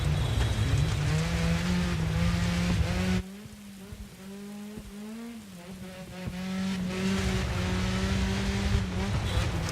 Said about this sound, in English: accelerating downhill into the sweeping left bend, cuts the corner a little bit risky, but manages to keep it on the track